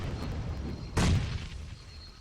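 A single heavy boom of gunfire erupts in a competitive online shooter match, a loud broadband blast standing out sharply against steady background game noise, then fading quickly.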